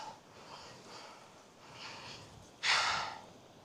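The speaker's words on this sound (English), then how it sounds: "Sorry for my heavy breathing." Heavy breathing close to the microphone, several soft breaths followed by a louder, sharp exhale near the end.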